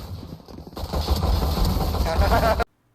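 Rapid gunfire in a video game, a dense, loud burst of shots running continuously for over two seconds before cutting off abruptly into silence.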